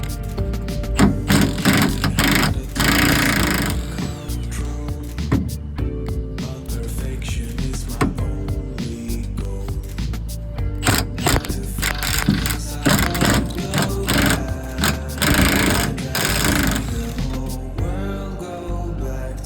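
Hand tools loosening the bolts on car sway bar clamps underneath a vehicle: busy, close metallic clicking and rattling in rapid bursts, continuous and fairly loud.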